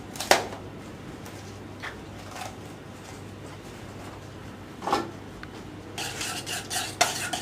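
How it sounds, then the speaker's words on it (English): Couscous being mixed around in a dish, with soft scraping and stirring scrapes, a few sharper utensil clicks near the start and middle, and a brief burst of rustling toward the end, close and fairly quiet. "the more you mix it round, the more it will suck up all that flavour"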